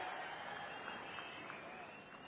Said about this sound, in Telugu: గట్టిగా చప్పట్లు కొట్టి స్వాగతం పలకండి